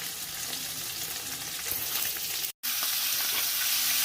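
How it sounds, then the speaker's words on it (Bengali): Fish frying in a wok, head and tail side by side, with a steady broadband sizzle that keeps going except for a brief dropout near the middle. "মাথা আর লেজ পাশাপাশি শুয়ে ভাজা হয় কড়াইতে"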